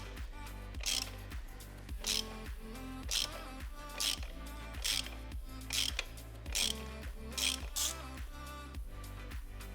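A ratchet with a 16 mm socket working a spark plug loose on a Suzuki Swift 1.2 VVT engine, with a regular series of clicking ratchet strokes roughly every second, close and steady, no voices.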